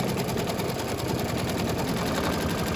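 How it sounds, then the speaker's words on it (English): An embroidery machine stitching a St. Patrick's Day coaster runs its final tack-down stitch, a steady, close, dense mechanical whir with rapid needle chatter that continues without pause and with no voices. "now we're going to go ahead and do the final stitch. So it'll tack it down."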